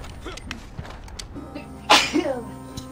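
A single sharp sneeze bursts out about two seconds in, loud and close, following quiet creaks and small movement sounds during a Red Dead Redemption 2 livestream.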